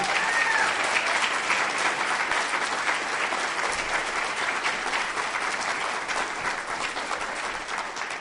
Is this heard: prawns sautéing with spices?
no